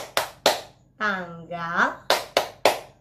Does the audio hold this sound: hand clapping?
yes